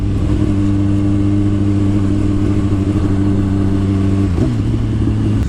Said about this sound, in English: I'm adding some throttle when I shift.